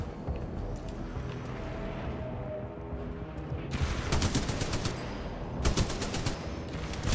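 Titanfall 2 combat: a low rumbling background gives way to loud bursts of automatic gunfire in the second half, in several sharp volleys.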